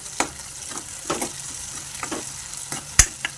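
Onions, then tomatoes, softening in a pan for a village-style dry fish curry: a soft, steady sizzle with intermittent scraping stir strokes and one sharp clack of a utensil against the pan near the end, with no talking.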